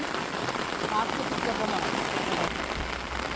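Rain falling on a village morning, a steady soft hiss of drops on surfaces at moderate distance, continuous with a faint low rumble near the end and a voice briefly audible.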